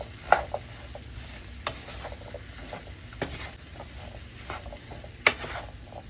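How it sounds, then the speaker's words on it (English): Seasoned sweet potatoes, coated with dried Italian seasoning and being prepared for roasting, are stirred in a bowl, giving soft continuous scraping with a few sharper clicks and knocks, close and fairly quiet, with no talking. "And continue to stir to make sure you get the seasoning on every single sweet potato."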